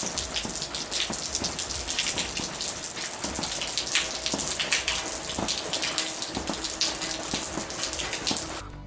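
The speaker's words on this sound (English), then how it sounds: "as you will see, it was a rainy day" Steady rain patters and drips outside on a wet day, a dense, continuous hiss of droplets with sharper taps scattered throughout, fairly close and with no voices.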